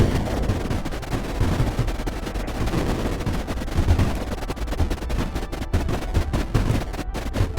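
Cryon units firing in the Creeper World IXE strategy game, a continuous rattling barrage of rapid shots with steady loudness throughout, heard alone without talk.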